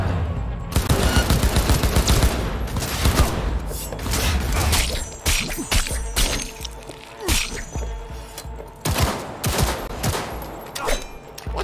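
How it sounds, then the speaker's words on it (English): Loud volleys of gunfire ring out in a Cyberpunk 2077 firefight: sustained shooting, then sharp, separate shots and impacts toward the end, with almost no talking. "We just gotta shoot these guys in the face."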